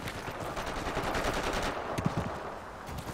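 MG34 machine gun in Forgotten Hope 2 firing rapid bursts, close and steady for most of the stretch, with another weapon cracking distinctly near the end.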